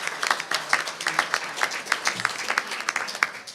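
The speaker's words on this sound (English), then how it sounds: "We applaud you." A modest bar association audience applauds, and individual claps are distinct in an uneven, moderately loud patter.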